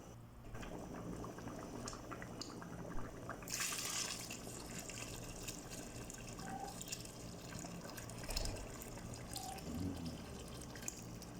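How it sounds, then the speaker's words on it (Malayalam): First-pressed milk from fifteen coconuts being poured into a large pot of olan for a big Onam sadya makes a soft, continuous liquid splash and gurgle, with faint clinks and kitchen noise around it. "പതിനഞ്ച് തേങ്ങയുടെ ഒന്നാം പാലാണ് ഞാനിവിടെ ഒഴിക്കുന്നത്"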